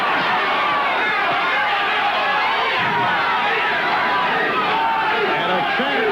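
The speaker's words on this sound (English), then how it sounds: "the crowd, a Czyz crowd reacts" A dense boxing-arena crowd roars and chatters at a Bobby Czyz versus Dennis Andries bout, a loud, continuous wall of shouting voices with a commentator talking over it.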